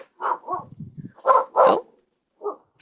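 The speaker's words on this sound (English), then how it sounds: "I hear a puppy barking." A small dog yips and barks several times in short bursts, fairly close, with a brief spoken exclamation near the start.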